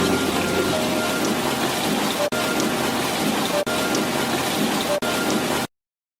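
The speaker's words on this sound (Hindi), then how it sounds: "तुरंत राज्य में बारिश होने लगती है" Steady heavy rain pours down across a kingdom, a dense continuous hiss broken by a few brief dropouts before cutting off abruptly.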